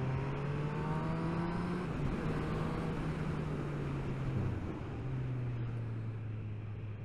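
A 2022 Honda CB1000R Black Edition motorcycle carves through twisty roads, its engine droning steadily with pitch dips as the rider shifts and rolls off, under constant wind rush.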